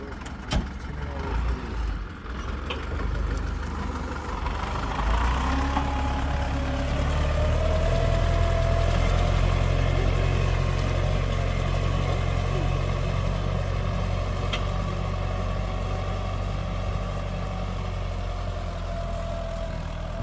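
A mini tractor fitted with a heavy steel pulley runs on a test drive, its engine throbbing low and steady close by for the whole stretch, loudest in the middle, with a few sharp knocks at the start.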